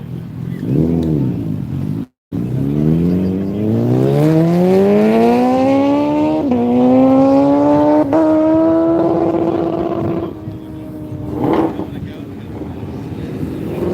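A car roars past at the Texas Mile, its engine note climbing steadily through the gears over several seconds during a top-speed run before fading into the distance, with a brief dropout and faint crowd noise afterward.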